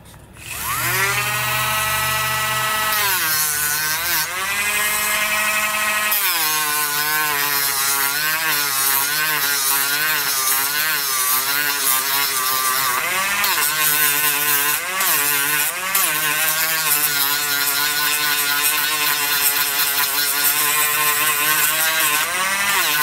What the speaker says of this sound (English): Get rid of the cutoff wheel, put the sanding drum on.